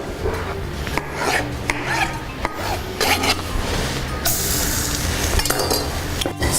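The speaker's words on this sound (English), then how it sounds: "I'm going to cut up my red pepper. Right, rough cuts is fine, and I'm throwing it into my roux." Red pepper pieces frying in a flour roux in a pan, a steady rasping sizzle with scraping and stirring against the pan throughout, close and fairly loud, with no talking.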